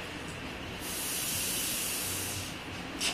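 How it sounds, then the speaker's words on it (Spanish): Air hisses steadily out of a small hole in a plastic bottle while a balloon inside it is blown up, a broad, breathy rush that swells louder in the middle and eases off, with no talking. "el aire que entra por el globo hace que el aire que está dentro de la botella salga por el orificio"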